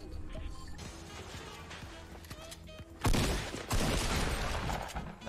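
A sniper rifle firing in a video game: after a quieter stretch of game sounds, two loud, heavy blasts ring out in quick succession, the first echoing into the second.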